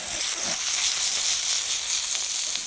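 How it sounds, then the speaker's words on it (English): Steak sizzles on an oiled sizzler pan in an Ooni Pro pizza oven, a loud continuous hiss close by with no talking. "Steak straight on and back inside there to cook."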